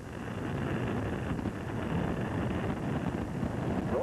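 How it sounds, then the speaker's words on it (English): Space Shuttle Columbia's solid rocket boosters igniting at liftoff for mission STS-55, a steady, dense, broadband roar held at constant loudness throughout, heard from a distance without speech. "Solid rocket ignition and liftoff."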